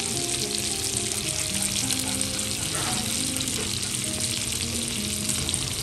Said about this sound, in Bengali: এই মাছগুলো আস্তে আস্তে ভাজি